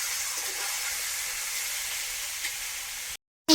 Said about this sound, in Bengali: এবারে মাছটা ভাজা চলছে